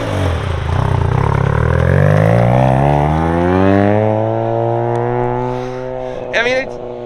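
A Mazda RX7 engine pulls hard while driving, with a loud, smooth, rising drone that climbs steadily in pitch, then eases off and holds a lower tone before a short burst near the end.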